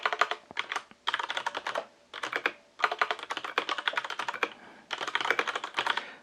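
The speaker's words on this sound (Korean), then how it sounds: "제가 타자를 한번 쳐보겠습니다." Rapid typing on a Majestouch mechanical keyboard connected to an iPad, with crisp, lively keystrokes clattering in quick bursts separated by brief pauses, close and clear with no talking.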